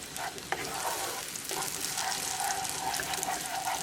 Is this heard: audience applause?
no